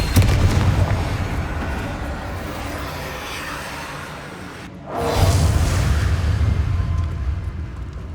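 Fire spell explosions in the video game Hogwarts Legacy, loud rumbling blasts with a roaring burst, a brief dip to near silence, then another heavy rumble.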